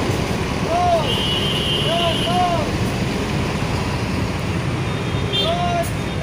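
A convoy of tour buses in Bandung pulls away, giving a continuous low engine and road rumble with a few short, wavering tonal toots rising and falling above it.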